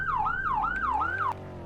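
Yelp police siren from the ER:LC roleplay video game, rapid rising-and-falling wail repeating about four times, loud and close, stopping abruptly near the end over a steady engine-like drone.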